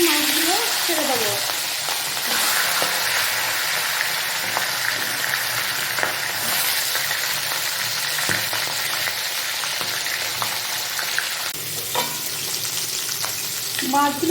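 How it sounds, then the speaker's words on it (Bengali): Pieces of katla fish fry in hot oil in a home kitchen, giving off a loud, steady hiss and crackle that runs unbroken throughout, with a few brief clinks and stirs. "দেখুন তেলটা গরম হয়ে গেছে। এবার এই মাছগুলো ছেড়ে দেবো।"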